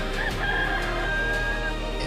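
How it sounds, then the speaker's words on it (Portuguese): A rooster crows once, a clear drawn-out call over a steady low background hum, set within a dramatized Bible reading. "Imediatamente cantou o galo."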